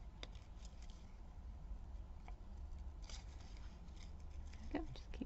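Scissors cut out a paper craft piece for an advent calendar, giving scattered quiet snips and crisp paper rustles with a faint voice murmuring underneath.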